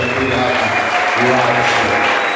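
Church congregation clapping steadily throughout, with voices and tonal sounds blended into the continuous applause.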